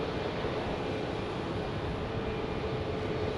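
Steady, fairly faint jet roar of an Airbus A321neo at Phoenix Sky Harbor, a broad even rumble with no breaks across the short stretch.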